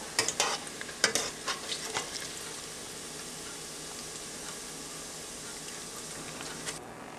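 Bacon frying in a pan on a stove over turned-down heat, a steady close sizzle and crackle with several sharp pops and stirring clatters early on, then an even hiss.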